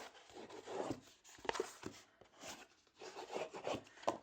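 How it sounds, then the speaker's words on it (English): Folded paper on a handmade mini album being burnished by hand, giving repeated soft rubbing and scraping strokes up close in uneven bursts, with no talking. "I'm also going to burnish here."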